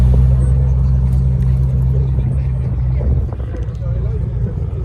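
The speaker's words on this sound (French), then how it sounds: "Très énervée comme voiture. McLaren." A McLaren sports car idles with a deep, steady low rumble close by, its tone easing slightly after a few seconds while a person talks over it.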